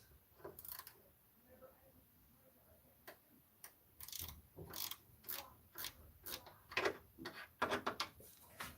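Socket ratchet with a 12 mm socket working a stabiliser bracket bolt on a 2000 Toyota Corolla, giving bursts of quiet, close clicking at irregular intervals with short pauses, growing busier toward the end.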